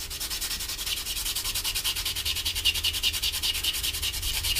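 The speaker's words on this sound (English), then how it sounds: "I've just started sanding with the sanding block, still keeping it sort of 90 degrees." Rapid, even back-and-forth rasping of a sanding block rubbed over a hard plastic model kit part, close up and quiet, with a steady rhythm throughout.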